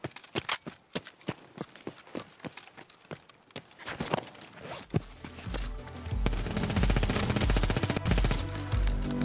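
Gunfire in the shooter game Escape from Tarkov: a run of sharp single shots in an uneven rhythm, then a loud sustained automatic burst rattling continuously near the end.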